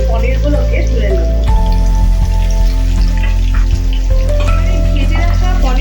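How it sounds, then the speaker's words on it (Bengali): Paneer cubes frying gently in oil in a pan until lightly browned make a soft, continuous crackling sizzle, with a voice and tonal background sound running over it. "এবার আমি পনিরগুলোকে আস্তে আস্তে ভেজে নেব।"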